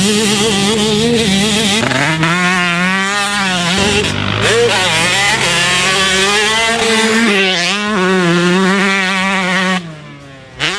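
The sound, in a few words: Yamaha YZ134 two-stroke motocross bike being ridden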